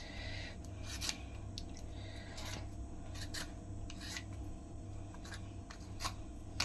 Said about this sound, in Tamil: இந்த மாதிரி நல்லா க்ளீனாக வந்து தோலை சீவி எடுத்துக்கலாம்